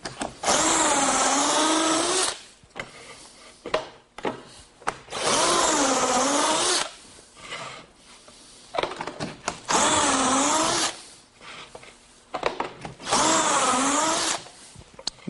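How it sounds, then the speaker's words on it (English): A drill bores pocket holes into a wooden workpiece with a Kreg jig, four loud high-pitched bursts of a few seconds each, separated by short pauses with handling noises. "I'm going to put 4 holes across the bottom"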